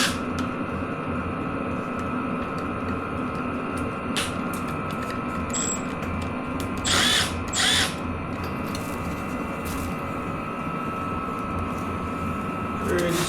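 An impact or power tool undoes front-end pinch bolts on a Beta 390 RR-S dirt bike, a steady loud drilling whir running throughout with two brief bursts near the middle, over a constant hum.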